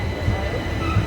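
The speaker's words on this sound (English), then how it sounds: "Train on platform 2 is your 11:03 service to Portsmouth and Southsea." A train rumbles at the platform at Chichester station, a dense, close, continuous roar of wheels and motors with faint squealing, and a station announcement murmuring underneath.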